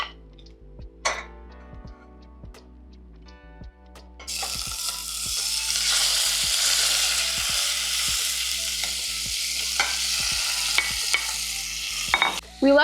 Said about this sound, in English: we're gonna add our beef and the chorizo and let it cook.